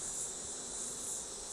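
Honey bees buzzing inside an opened hive make a dense, steady drone that stays even and moderately quiet throughout, with no talking.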